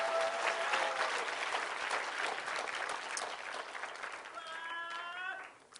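Congregation applauding in praise of the Lord during a bilingual English–Korean church teaching session, a dense, sustained burst of clapping that fills the room and fades out near the end.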